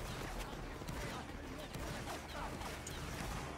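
Musket volley fire in a Napoleonic Wars video game: dense, continuous crackle of many shots blending into a sustained roar, with voices talking over it throughout.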